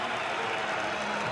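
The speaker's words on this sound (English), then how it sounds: "Crowd getting him behind the local man" A crowd at a track cycling World Cup race in Cambridge, New Zealand applauds in a brief, dense, steady burst of clapping that fills the arena.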